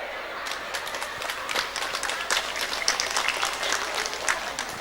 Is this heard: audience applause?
yes